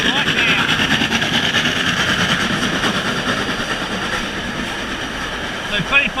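Steam locomotive 3526 rushing past at speed during a great train race near Petersham, a broad sustained roar of engine and rolling noise close by, with talk over it throughout.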